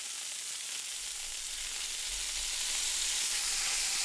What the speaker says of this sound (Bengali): এবার আমি এতে দিয়ে দেবো ডুমো করে কাটা পেঁয়াজ